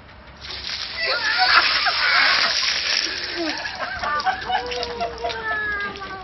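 Bucket of cold water dumped in an ice bucket challenge outdoors at a public library: a loud splashing rush builds and spills over a few seconds, with excited voices and cheering around it.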